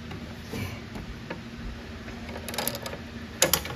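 A wrench ratcheting on a spark plug of a Kymco AK 550 scooter, with soft irregular clicks and ticks close by and a couple of sharper metallic clicks near the end.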